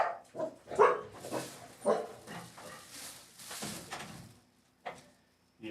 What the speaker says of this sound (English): Oh, and now the dog's upset.